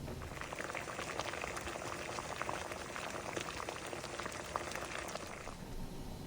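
Water at a steady simmer, heating MRE pouches of pork rib main, bread and cheese, with a constant close bubbling and hissing that runs throughout and holds at an even level with no talking.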